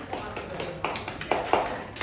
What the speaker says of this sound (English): Now clap, guys